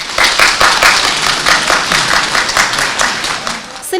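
Loud, dense applause from village residents at a community meeting with the regional administration head in Olyshivka, many hands clapping in a sustained burst at close range.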